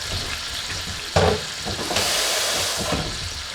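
Shrimp scampi sizzles in a pan with asparagus and tomato, a steady close frying hiss with a sharper burst of sizzle partway through.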